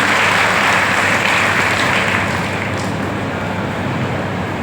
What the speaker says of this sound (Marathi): जोरदार टाळ्या वाजवून आपण त्यांचे स्वागत करतो